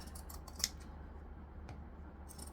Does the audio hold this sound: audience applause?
no